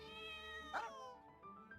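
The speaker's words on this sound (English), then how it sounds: "This cat invited itself here, but it's cute, so I let it stay." A cat meows in the video game Genshin Impact, one clear drawn-out meow in the middle, heard close over steady tonal game music with no talking.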